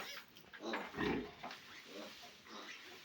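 Piglets grunt and squeal softly in a jumble of short snorts, close but quiet, with faint farmyard background noise.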